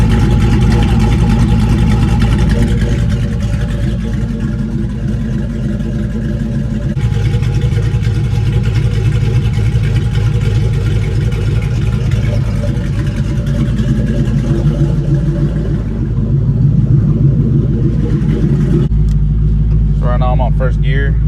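A 4.6-litre 2-valve Ford Mustang GT V8 fitted with CMS stage 1 cams rumbles loud and close with a lumpy, steady idle throughout. Near the end the engine note shifts and a brief higher sound cuts in.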